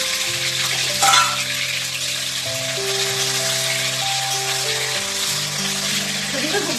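Cashews and raisins frying in a pan give a steady, soft sizzle that runs throughout under prominent background music, with one brief louder crackle early on.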